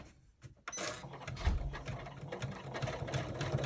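A sewing machine stitching pieces of a vintage bag starts up after a few handling clicks, then runs as a steady close mechanical whir and rattle without a break, loud and alone.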